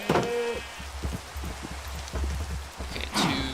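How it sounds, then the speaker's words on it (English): Rain falls steadily in the video game Minecraft, a soft, even hiss with scattered light pattering clicks and a couple of brief sharper sounds at the start and end. "It's funny how it looks so misty when it rains now."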